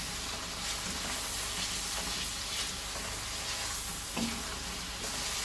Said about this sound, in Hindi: ये सब चीज़ें डालने के बाद अब आप इसको एक अच्छा सा 1-2 मिनट के लिए फ्राई करेंगे